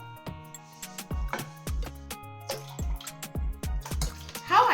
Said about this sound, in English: You have to mix it very well.